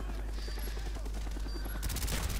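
Gunfire in a Call of Duty Black Ops multiplayer Demolition match on the Hotel map, a rapid fusillade of shots that grows denser and louder toward the end, with no talking.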